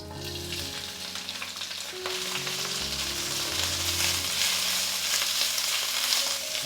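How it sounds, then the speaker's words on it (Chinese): Pickled mustard greens stir-fry in a little oil in a wok for a braised pork intestine dish, a continuous close crackling sizzle with stirring and no speech. "酸菜我们先用一点点油把它炒香"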